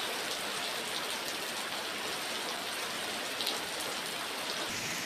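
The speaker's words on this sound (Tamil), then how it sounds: "கெட்டவாடி சுற்றுவட்டார கிராமங்களில் 20 நிமிடங்கள் பலத்த மழை பெய்தது." Heavy rain falls over the villages around Kettavadi, a dense, steady hiss of downpour striking surfaces, close and continuous with no breaks and no voices.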